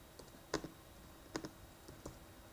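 Computer keyboard keys J and K pressed a few times, faint close clicks in small clusters with quiet gaps between, no talking.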